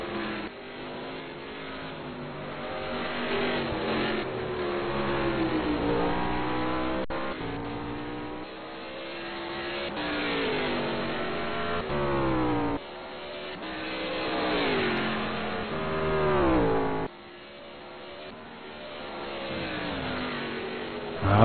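GT Masters race cars run steadily on the circuit, with engine notes rising and falling through gear changes and a few abrupt cuts between passages. No one speaks.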